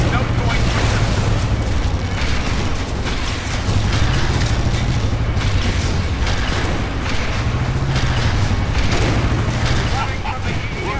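Rocket explosions and collapsing structures boom continuously in the video game Red Faction Guerrilla, a loud dense rumble of blasts and debris under a player's voice.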